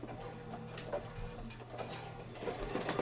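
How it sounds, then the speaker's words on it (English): An embroidery machine sews a tack-down stitch on a Kimberbell Christmas ornament, making fast mechanical ticking and whirring at close range with a rhythmic needle pattern and no talking. "And this is the tack down stitch."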